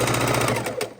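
A sewing machine stitching a quilt top made from a panel and four-patch blocks, running in a steady rapid mechanical chatter that stays close and fairly loud, with a brief pause near the end.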